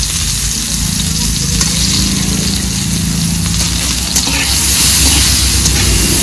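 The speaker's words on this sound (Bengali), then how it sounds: "মাছ ভাজা তেলের মধ্যে আলু ভেজে নেব।" Potatoes fry in oil left over from frying fish, seasoned with salt and turmeric, making a loud, dense, continuous sizzle close by with no voices.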